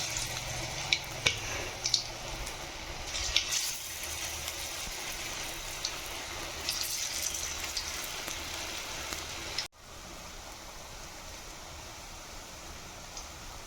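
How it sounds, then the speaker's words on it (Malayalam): Cauliflower pieces fry one by one in hot sunflower oil with a soft, continuous bubbling sizzle, and a few sharp pops and ticks stand out above it. The sizzle stays fairly quiet and close, with no voices. "ഇങ്ങനെ ഓരോ പീസ് ഇട്ട് വറുത്തെടുക്കാം"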